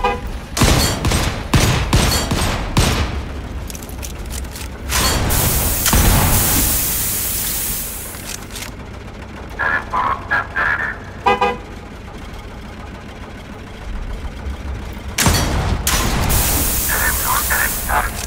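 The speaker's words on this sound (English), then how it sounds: "Shotgun seems to work pretty well." Shotgun blasts boom out in the underground tank fight of the Volcanoids video game, in loud bursts with gaps between them over constant mechanical rumble, and a voice talks over part of the action.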